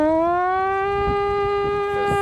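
A person hums a siren imitation, a steady, buzzing tone, loud and close, with faint thumps underneath.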